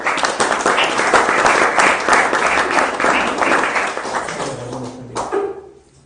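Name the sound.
applause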